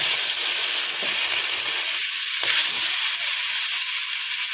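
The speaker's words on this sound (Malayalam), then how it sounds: "മീൻ അങ്ങ് ഫ്രൈ ചെയ്തേക്കാം" Fish fries in hot oil in a pan, a loud close sizzle with steady hiss and a few brief pops and spatters.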